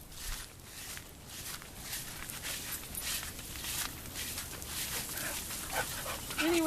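Panting and soft whimpering from a dog during off-leash recall training outdoors, heard close with rustling footsteps and movement throughout, a brief higher whine near the end.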